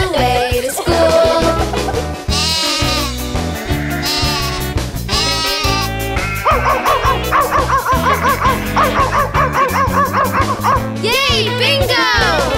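A children's nursery rhyme about the wheels on the bus, with a sung verse where the dog on the bus goes woof, playing as loud continuous music with voices singing and imitating the dog's barks rhythmically.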